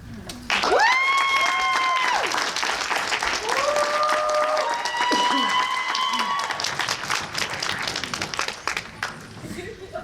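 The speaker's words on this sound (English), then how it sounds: "Give another round of applause for our 4 semifinalists." Audience applause for a poetry slam semifinalist, steady clapping mixed with cheers and whoops that starts abruptly and fills most of the stretch, with voices calling out over it before it thins toward the end.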